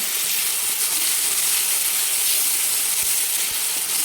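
Tomato and spices frying in hot oil in a pan for a mixed dal with drumsticks, giving a steady, loud, close sizzling hiss that holds unbroken throughout.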